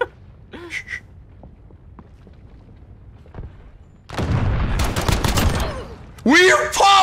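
Rapid burst of squirt gun fire in a video game, a dense run of sharp spurts lasting a couple of seconds, with excited voices talking and shouting over it.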